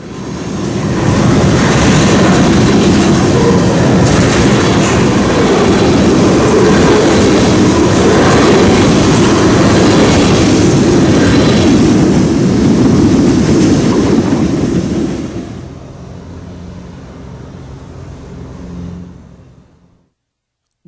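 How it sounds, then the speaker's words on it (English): A loaded CN crude oil train passes close by on the rails, a loud, steady rumble with wheel clatter that holds for about fifteen seconds, then drops off sharply as the last cars go by, leaving a fading low hum. "we see a loaded CN crude oil train from BNSF"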